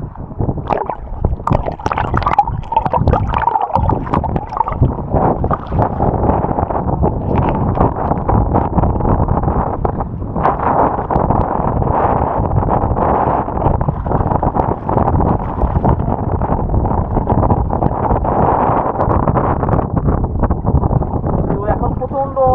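Steady wind buffeting the microphone with waves lapping and gurgling on the Jamuna River, continuous and fairly loud throughout, with faint voices underneath.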